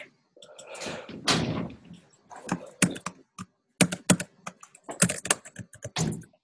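Keys struck on a Mac computer keyboard in quick irregular bursts of sharp clicks and clacks, close and fairly loud, separated by short pauses.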